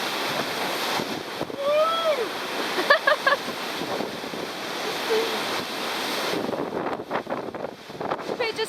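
Ocean waves and strong wind roar steadily around a racing yacht surfing at speed during an offshore race from Geraldton, with wind buffeting the microphone and brief faint voices breaking through the wash.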